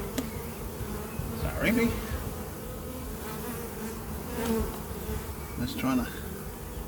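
Bees drone constantly around an opened hive during an inspection, with a dense nearby buzz and individual insects passing close, while someone speaks briefly over it.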